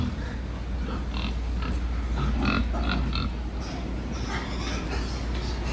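Pigs on a pig farm grunt and snort steadily at close to middle distance, several animals overlapping over a constant low farm hum, with no talk.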